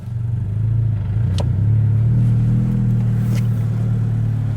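A manual car eases off in first gear, its engine a steady low rumble heard from close up that swells slightly and holds an even hum as it pulls away.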